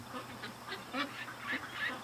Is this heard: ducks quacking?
yes